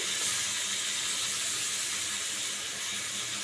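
Water poured into a hot cooking pan of Bengali bhetki fish curry gives a steady, close hiss and sputter that runs unbroken, with no talking.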